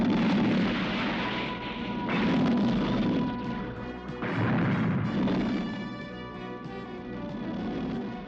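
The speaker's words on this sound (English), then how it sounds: "If I could blow the nose cone off that rocket, there's a chance." A cartoon explosion blows the nose cone off a rocket in a sustained, roaring blast with crashing debris and rumbling booms that swell and fade over several seconds, loud and dense.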